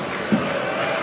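A home football crowd at the Riverside stadium in Middlesbrough during an FA Cup match against Aston Villa, heard as a steady, broad, distant murmur of many voices filling the stadium, with one brief louder swell near the start.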